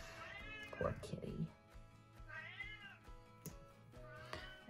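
A house cat meows insistently outside, wanting to be let in, with several drawn-out rising and falling cries spread across the moment, some close and clear, while a person speaks quietly in between.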